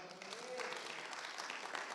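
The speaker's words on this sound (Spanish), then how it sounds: "Démosle un aplauso al Señor." A congregation at a Spanish-language church service applauds, giving a faint, steady wash of clapping throughout, with a voice briefly showing through.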